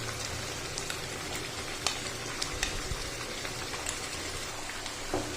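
Onion puree sizzles and crackles as it fries in a pot of vegetable gravy, a steady soft hiss with scattered small pops and faint stirring clicks, and no one speaking.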